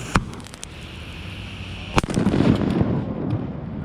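An artillery-style consumer firework set off in a fireworks safety demonstration: a sharp crack, a quiet pause, then a second loud bang followed by crackling, sizzling bursts that linger and fade.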